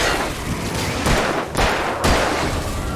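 Dense, loud video game gunfire, a continuous rattle of shots with a few heavier bursts spread across a few seconds.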